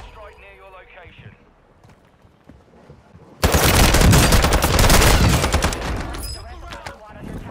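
Loud, rapid automatic gunfire in Call of Duty Warzone on Ashika Island, erupting suddenly after quieter game voice lines and sustained as dense bursts for several seconds before easing slightly.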